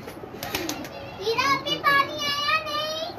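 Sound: pigeons cooing on a rooftop

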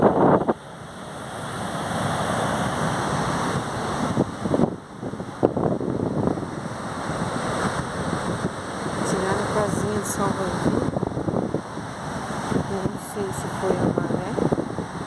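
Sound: strong wind and waves at the beach

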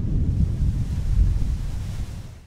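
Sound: powerful lake waves breaking on shore

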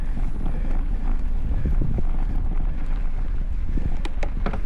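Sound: wind blowing across the camera microphone while mountain biking

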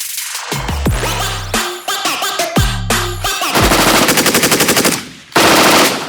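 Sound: Heckler & Koch MG4 machine gun firing

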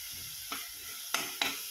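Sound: masala being stirred and roasted in oil in a pan

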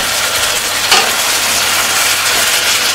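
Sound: half a chicken stir-frying in oil in a wok

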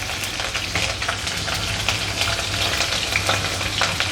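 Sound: cumin and green chillies frying in oil

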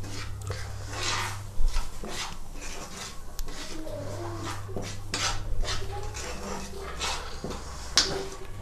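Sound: spices being mixed into oil with a spoon for radish pickle

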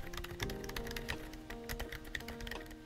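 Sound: typing on a GAS67 keyboard with silent switches

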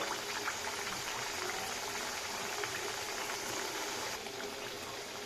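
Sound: lachha paratha frying in hot oil

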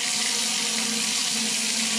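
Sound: water running from Grohe Euphoria SmartControl shower system

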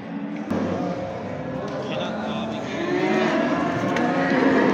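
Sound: cattle mooing at Çorum livestock market

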